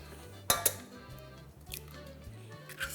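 An egg goes into a bowl while making cream filling for an Italian plum pie, a pair of sharp clinks of shell against the bowl rim followed by faint soft taps and kitchen clatter, quiet and close.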